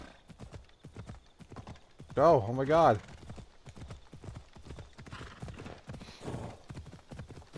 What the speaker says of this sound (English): Don't know how to make the horse run any faster.